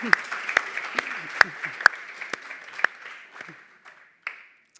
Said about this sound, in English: But we can give applause.